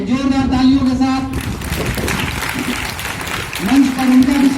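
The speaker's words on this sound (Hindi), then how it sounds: "जोरदार तालियों के साथ" Applause from an audience at a school award ceremony where the school receives an international award, loud clapping and cheering mixed with music and a voice speaking over it.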